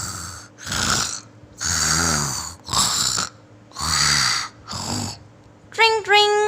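Someone snores loudly in repeated long rasping breaths, five or six snores in a steady rhythm with brief pauses between, followed by a short burst of squeaky chirping.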